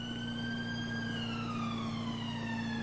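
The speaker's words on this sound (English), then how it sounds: "The siren's still going off." Police car siren from GTA V's LSPDFR mod in a UK setting, a slow wail gliding gradually downward in pitch above a constant low engine drone, steady and somewhat distant.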